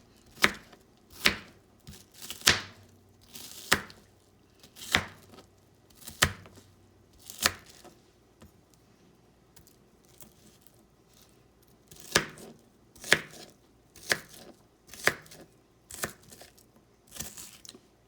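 An onion being sliced with a knife on a cutting board, a run of crisp, evenly spaced chops that pause midway and then resume at a quicker pace.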